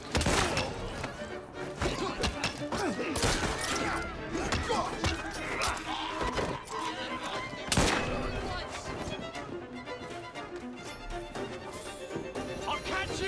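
Muskets and pistols firing in Assassin's Creed Syndicate: repeated loud, sharp cracks and bursts in rapid irregular succession, mixed with impacts and clatter, with voices shouting in the game over the shooting.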